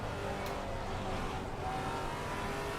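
A race car engine drones steadily in Assetto Corsa Competizione at Monza as a faster car comes up from behind to overtake, a continuous loud mechanical roar with no clear pass-by swell.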